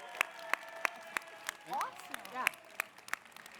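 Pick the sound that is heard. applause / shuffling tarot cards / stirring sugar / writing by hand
applause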